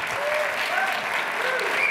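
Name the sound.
audience applause at a launch event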